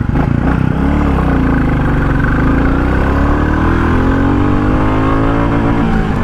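A 2023 Royal Enfield Bullet 350 single-cylinder motorcycle pulls away in first gear, its thumping exhaust loud and close as the engine note climbs steadily through the run, with no voices.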